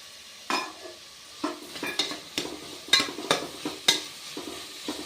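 About six large, thinly chopped tomatoes are fried and stirred in a pan, a ladle scraping in a steady series of sharp strokes over a faint sizzle, close and alone.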